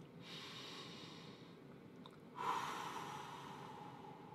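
A speaker leads a group in taking one more deep breath at a conference talk: a soft, airy breathy sound swells up mid-clip and trails off, close and quiet, with no speech.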